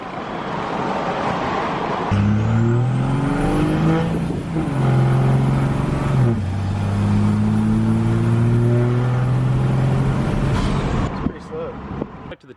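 A truck engine winds up hard through rising revs and a gear change, loud and close, then lets off and fades near the end.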